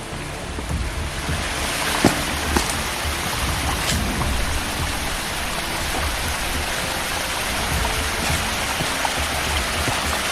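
A tall waterfall roars as a steady, loud broadband rush of water, constant throughout with no voices.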